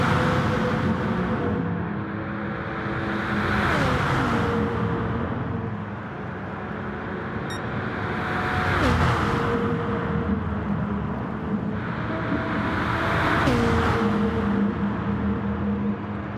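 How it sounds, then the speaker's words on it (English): Race car engines in a Gran Turismo online touring car league race, a steady droning roar that swells and fades as the cars pass, with pitch dropping at each gear shift, no talking. "crank it up and listen to those engines roar"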